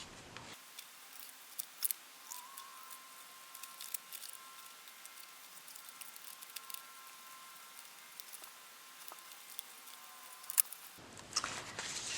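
Scissors snipping through paper while trimming a picture for a handmade journal, a quiet, steady run of small crisp cuts close by, with soft rustling of the page between snips.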